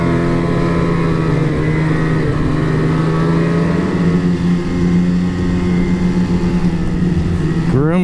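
Snowmobile engines idling and running near a gas station stop beside groomed trails, a steady, loud, close droning hum that rises briefly at the end.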